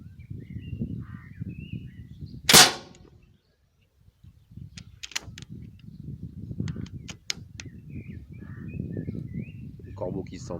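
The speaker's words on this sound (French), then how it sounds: "Le corbeau qui se sent mal." A crow caws in short repeated calls at some distance, outdoors at a field target air rifle range, with faint ambient noise and a sharp impact-like sound early on.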